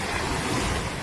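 Constant rush of Persian Gulf waves breaking on a beach near Doha, broad and loud, with wind buffeting the microphone.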